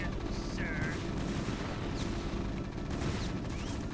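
Explosive bombing and gunfire in the video game StarCraft rumble and crackle continuously at a steady, dense level, with a voice talking faintly underneath.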